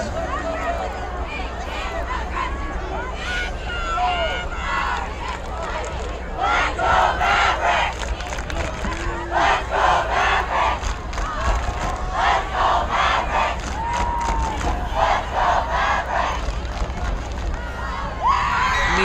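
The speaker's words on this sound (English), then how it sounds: "crowd starting to get loud, trying to help their defense out" High school varsity football crowd in the stands cheering and shouting to support their defense, a loud, swelling roar of many voices that builds and surges in waves, with an announcer talking over it.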